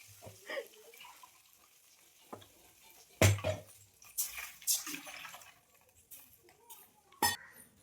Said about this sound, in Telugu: గిన్నె తీసుకొని మనం 2 వాటర్ పోసుకోవాలి.